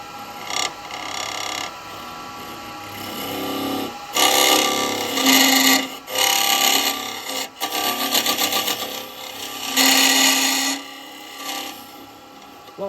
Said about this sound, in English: Now I'm going to go back in with the square and just flatten the bottom off